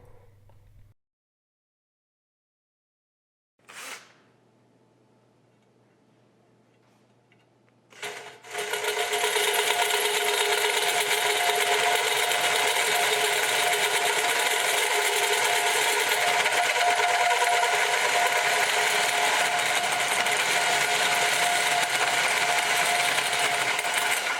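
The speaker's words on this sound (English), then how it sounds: "you'll need an 1 3/8 hole saw." A small electric drill starts with a brief whir, then a 1 3/8 inch hole saw bites in and grinds steadily and loudly through a metal fuel tank for a long stretch, no voices.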